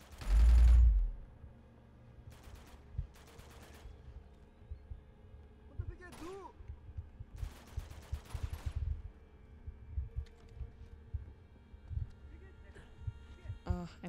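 Gunfire in Uncharted 2: Among Thieves, several short bursts of rapid shots spaced through the scene over a steady game soundtrack, with someone talking throughout.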